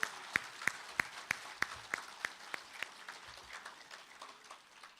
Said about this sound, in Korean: 우리 박수 한번 부탁을 드리겠습니다.